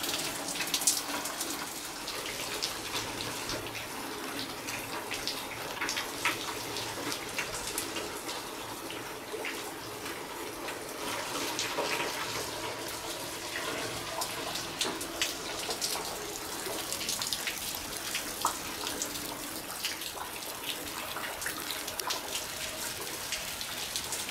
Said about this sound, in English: You know, it's been raining hard